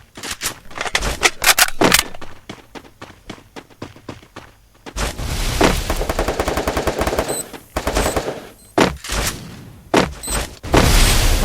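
Rapid bursts of automatic gunfire and heavy explosive booms in a Free Fire clan match, loud and close, with sharp rattling volleys broken by short pauses and a sustained roaring blast midway.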